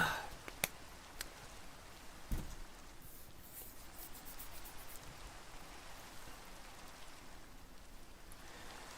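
Steady rain patters in a Minecraft Lord of the Rings mod, a faint even hiss of falling drops with a few scattered clicks and taps over the top.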